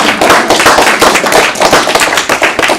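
Audience clapping at a Box Elder School District board meeting, a loud, dense patter of many hands applauding steadily throughout.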